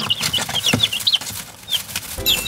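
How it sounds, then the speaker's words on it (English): Chicks being fed worms chirp and cluck in quick high-pitched bursts, several birds close together, busy and lively with small scuffling noises. "feeding these guys, the chicks."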